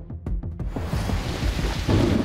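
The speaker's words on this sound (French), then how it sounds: "un orage sévère qui s'abat sur le secteur" Over a golf course in Stouffville, Ontario, a severe thunderstorm builds from a few sharp cracks into a heavy, continuous roar of rain and rumbling thunder.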